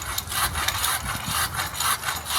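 A hand saw cuts through a tree branch outdoors, giving a steady, close rasp of back-and-forth strokes that continues without pause.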